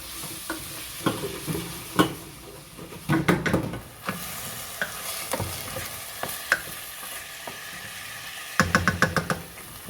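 Onions sizzling softly in a pan while a spoon stirs and knocks against the metal, scattered clacks over a steady frying hiss, with a quick burst of rapid taps near the end.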